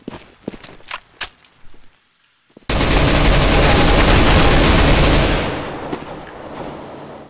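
Gunfire in the video game Counter-Strike: scattered sharp shots and clicks come first, then a sudden loud, continuous automatic burst lasting a few seconds before it tapers off.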